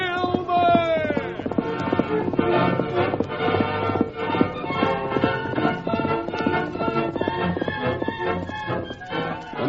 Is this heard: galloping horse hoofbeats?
yes